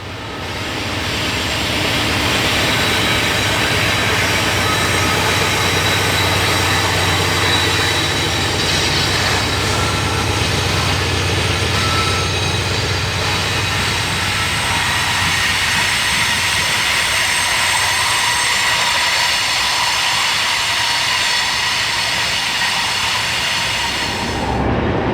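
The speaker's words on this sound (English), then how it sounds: "next was NS367 with a duo of C6Ms and a good bit of EMD power" Loud, close freight train NS367 rolling past steadily, led by two GE C6M locomotives with several EMD units, a continuous rumble and rail noise that fades slightly near the end.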